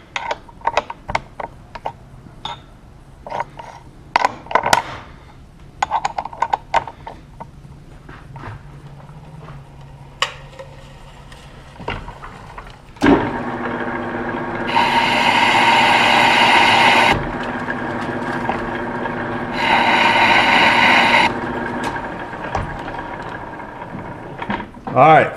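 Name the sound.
lathe cutting a flywheel to lighten it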